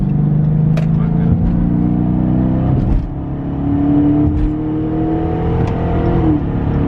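A Dodge Charger's 5.7 V8 revs and accelerates loudly nearby, its engine note climbing and dipping through the gears in a continuous throaty roar.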